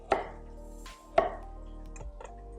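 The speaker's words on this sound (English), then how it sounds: "By keeping the core intact, you are able to thinly slice around the edges here." A knife slices through an onion on a cutting board, two distinct close chopping knocks followed by softer cutting sounds, quiet otherwise with no talking.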